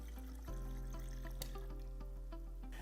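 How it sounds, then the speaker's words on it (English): A Frigidaire refrigerator water dispenser keeps trickling after the glass is pulled away, a steady close running-water sound with faint drips over low appliance hum, a sign of air still in the line after a filter change. "Some water will still be trickling out."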